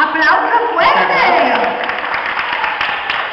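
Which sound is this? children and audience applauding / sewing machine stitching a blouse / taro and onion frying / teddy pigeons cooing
children and audience applauding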